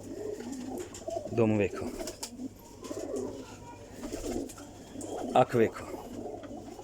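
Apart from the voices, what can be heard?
female pigeon cooing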